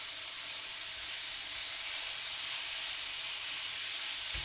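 Pork curry sizzles in a pan with a steady, even hiss that holds for several seconds at moderate loudness, with no talk over it.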